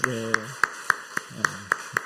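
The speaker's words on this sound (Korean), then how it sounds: "우리 찬양팀 감사합니다 하면서 좀 격려의 박수를 한번 드리면 좋겠습니다" Applause for the worship team at a Friday late-night church prayer meeting comes as sparse, evenly spaced sharp claps about four per second, with a voice speaking over them.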